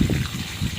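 Water drains out of an old, faulty central water heater, a close gushing trickle with uneven surges, heard alone.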